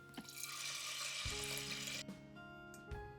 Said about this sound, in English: add 400 grams rinsed rice and 400 grams clam soup